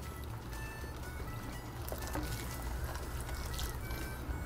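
Water is poured into a pan of stuffed beef flank steak with tomato sauce, a faint, steady pouring wash against a quiet kitchen background.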